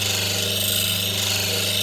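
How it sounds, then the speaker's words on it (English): Bench grinder sharpening a chisel, a steady, loud whirring drone that holds an even tone from start to finish without any speech. "Let's go back to the grinder."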